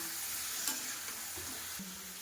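Cumin, ginger and chili paste fry with chopped tomato in a pan, giving a steady soft sizzle with a few faint stirring scrapes, fairly quiet and close.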